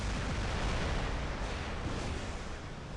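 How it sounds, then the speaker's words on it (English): The Thermite heavy weapon fires in the War Robots game as dense, rumbling explosive blasts. The bursts run together into a continuous roar with no speech. "I'm gonna fire singles, I think."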